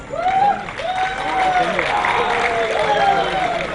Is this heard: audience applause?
yes